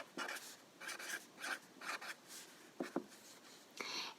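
A hand writes a short note, the pen giving faint, soft scratching strokes in quick bursts separated by brief pauses.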